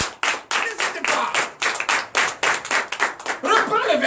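A church congregation claps in a steady rhythmic beat during a night deliverance and prophecy service, with voices shouting and acclaiming over the claps.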